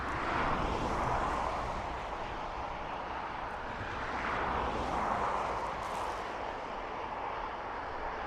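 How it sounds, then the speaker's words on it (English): Ryanair Boeing 737 MAX 8 arriving from Madrid, a steady loud jet engine roar swelling and easing slightly as it passes at an airport. "MAX 8 737 of Ryanair. Inbound from Madrid."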